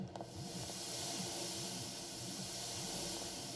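Continuous steam hissing in the video game Daria's Inferno, a loud, even broadband rush over a faint low rhythmic rumble, lasting several seconds.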